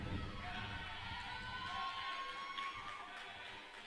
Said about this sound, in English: A lot of cheering in this crowd.